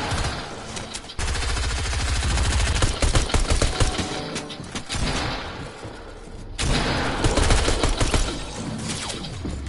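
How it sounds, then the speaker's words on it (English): Rapid automatic gunfire in Fortnite, sustained loud bursts of shots that keep up for most of the stretch, with brief pauses between volleys and no voice over them. "Who the fuck is this dude shooting at me?"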